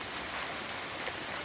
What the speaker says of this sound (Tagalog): Takbo tayo! Malakas na yung ulan!